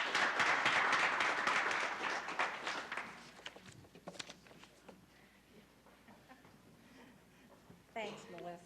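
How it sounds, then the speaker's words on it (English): Graduation audience claps at a 2005 Skills Express ceremony, a dense loud burst of many hands for about three seconds that thins into scattered claps, with a short renewed flurry near the end. "And I want to give them all my applause."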